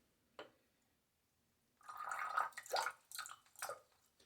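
Water dripping and splashing at a sink while a man wets his face before a wet shave, a single drip early, then a burst of irregular close splashes after a short silence.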